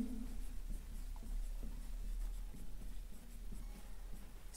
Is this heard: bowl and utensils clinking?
no